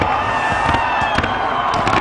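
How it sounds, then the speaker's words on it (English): Fireworks bursting at the cricket World Twenty20 final presentation ceremony, a rapid series of cracks and pops over a continuous roar of a stadium crowd. "Where the fireworks have started here"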